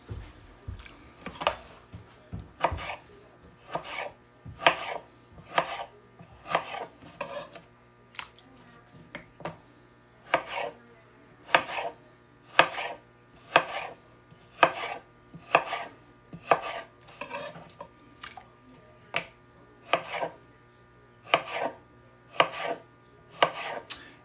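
A knife cuts potatoes into pieces for fries on a cutting board, producing a long, steady series of crisp chops at a regular rhythm, close and alone with no talking.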